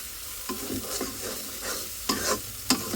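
An egg frying in a pan at home, heard as a continuous close sizzle with several short scraping, stirring bursts of a spatula, and no talking.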